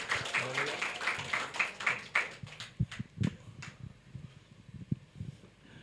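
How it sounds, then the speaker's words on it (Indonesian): Applause at a Sunday church service, a patchy run of hand claps from the congregation with a voice talking over the clapping at the start. "Mari beri tepuk tangan."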